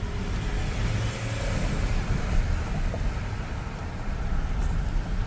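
Cars pass by on a road with a continuous broadband roadway rumble, steady and fairly loud, without any voices.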